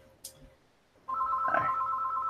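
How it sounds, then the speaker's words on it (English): A landline telephone rings indoors, a sustained electronic ringing tone that starts abruptly after a near-quiet moment and continues steadily at moderate loudness, with a faint thump just before. "I'll let the answer machine get that. Phone's ringing."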